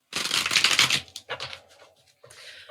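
Close-up papery riffle of a vintage tarot deck being shuffled, then a few shorter shuffling bursts and soft slides of the deck.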